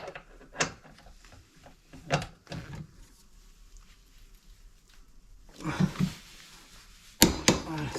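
Torque wrench clicks and ratcheting while tightening tow hitch bolts on an Audi A3, a few sharp mechanical clicks at intervals with quiet gaps and some faint background noise.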